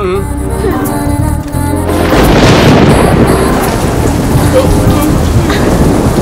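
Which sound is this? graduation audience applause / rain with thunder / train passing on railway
rain with thunder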